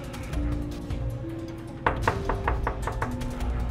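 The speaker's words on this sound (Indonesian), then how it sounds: "Ketok aja pintunya, Bu." Knuckles rap several times in quick succession on the door of a house, a short run of close, sharp knocks over a low steady background hum, with no talking.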